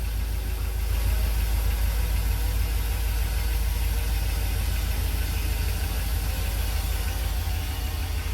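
A 2005 Chevy Express box truck engine idles steadily up close, its low rumble carrying a slightly uneven, stumbling beat from a misfire.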